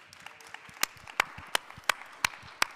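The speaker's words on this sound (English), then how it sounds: "Can I get another applause for that?" Scattered audience applause at a panel discussion at the Worldchefs Congress & Expo 2022, a handful of sparse, sharp claps at a slow uneven rhythm, fairly faint and without talk.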